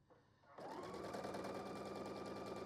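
A sewing machine stitches a flying geese quilt block, starting up after a brief quiet moment and then running steadily and close with a fast, even mechanical whir and rapid needle rhythm.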